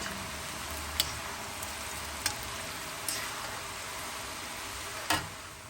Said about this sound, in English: Now you want to cook this in low to medium heat. There we go. And you just want to continue to stir it.